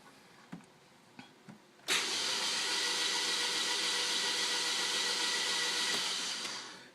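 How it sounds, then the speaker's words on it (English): A car engine turned over by its starter motor during break-in of a new motor, heard as one long steady whirring burst running for several seconds before fading out, preceded by a few faint clicks. "In bursts like this, you don't want to run it non-stop or you'll burn up your starter."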